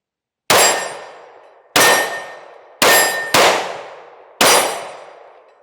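Five sharp, loud reports from a Shield Plus Carry Comp, a compensated pistol, spaced irregularly about a second apart, each trailing off into a ringing echo outdoors.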